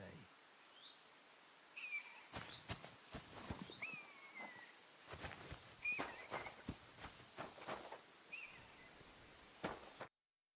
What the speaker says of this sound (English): That grey horse you have grazing here is mine.